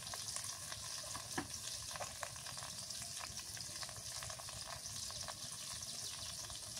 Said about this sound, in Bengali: মরিচ ভাজা হয়ে গেছে, এবার শুটকিটা দিয়ে দিই